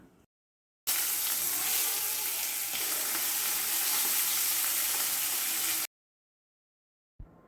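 Fish curry sizzles in a pan in a home kitchen, a loud, steady, close frying hiss lasting several seconds before cutting off abruptly, with no voices.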